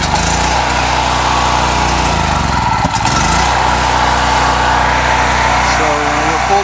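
Predator generator engine converted to run on natural gas through a US Carb snorkel, running steadily with a loud continuous drone, a brief stumble near the middle, then settling back into its even hum.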